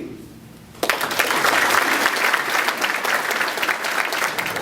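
After a brief quiet moment, an audience at a mayoral candidate forum bursts into loud, sustained applause that continues steadily to the end.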